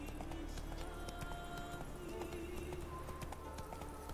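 Roach, a horse in The Witcher 3, clip-clopping along at a steady walking pace, hooves close and clear over a constant ambient game background.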